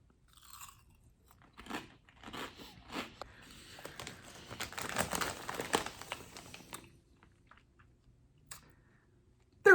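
Kettle cooked Flamin' Hot chips crunched and chewed close to the mic in a run of crisp bites that builds in the middle, then drops to near silence with a short bump at the very end; no talking.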